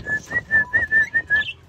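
A person whistling to an Aseel rooster, a short run of about seven clear, even whistle notes in a quick steady rhythm, close and alone.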